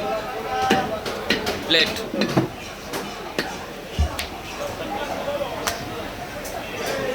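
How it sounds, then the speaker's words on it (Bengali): A butcher chops a desi goat's front leg with a cleaver in a meat shop at Bangaon New Market, giving scattered sharp thwacks, some hard and close, while people talk. "সামনের রাং কাটো, সুন্দর করে পরিষ্কার করে দাও।"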